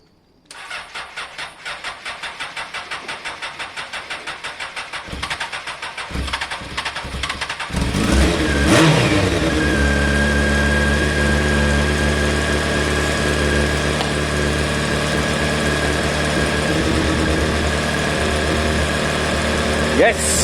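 Honda CBR 600 F motorcycle engine cranking with rapid starter pulses, catching after several seconds and settling into a loud, steady high idle on choke, close by, with a voice speaking briefly.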